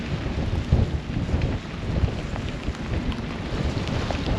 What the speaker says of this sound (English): It's pouring rain, and the wind is like 11, 12, 17, 11, 12, 18.